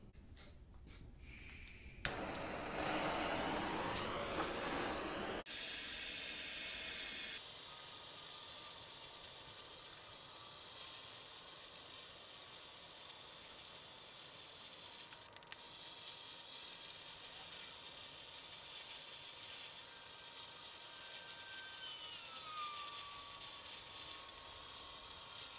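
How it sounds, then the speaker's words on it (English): A propane torch burns against wood, giving a steady, close roaring hiss that starts after a click and a short rustle, with one brief break partway through. "I use this torch here."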